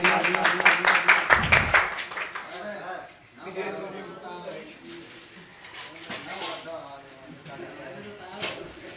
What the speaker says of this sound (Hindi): तो भैया जी के सम्मान में एक बार तालियां।